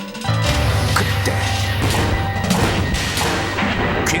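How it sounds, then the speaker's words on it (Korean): A pot used for cooking beans explodes in a kitchen with a loud, sudden crash and boom, followed by clattering, rattling debris and ringing noise that trails on for several seconds. "굉음 소리와 함께 순식간에 일어난 폭발"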